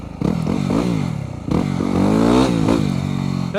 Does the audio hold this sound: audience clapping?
no